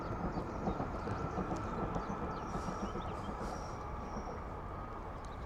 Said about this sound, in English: Plus we've got a southbound train.